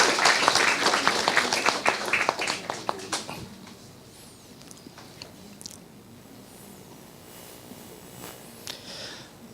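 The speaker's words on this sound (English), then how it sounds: "Let's give her a round of applause." A talk show audience gives a volunteer a round of applause: a brisk burst of clapping for about three seconds that quickly fades into quiet room tone with faint stray sounds.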